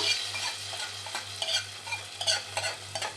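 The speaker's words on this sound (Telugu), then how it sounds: "ఇప్పుడు ఈ తాలింపు ఇందులో పోసేద్దాము" Hot tempering is poured into cooked amaranth-leaf dal in a village-style kitchen, setting off a loud, crackling sizzle with stirring scrapes over a steady low stove hum.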